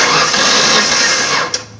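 A 2005 Ford Ranger 3.0 V6 cranks over on the starter during a compression test, a loud steady churning drone lasting nearly two seconds before cutting off with a brief click.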